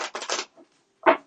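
A deck of tarot cards shuffled by hand in three quick riffling bursts, then a short pause and a final sharp card snap, close and fairly quiet.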